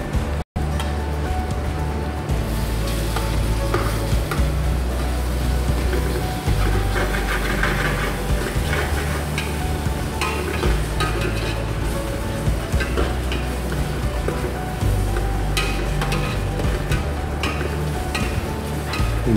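Tomato paste for chicken majboos fries and is stirred in a pot. A loud, continuous sizzle runs throughout, with scraping and stirring noises scattered over it and no speech.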